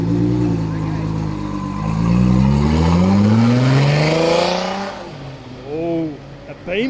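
Race cars accelerating hard from a roll at a Queensland Raceway roll racing event, the engine roaring and climbing in pitch as it passes, then dropping off into the distance.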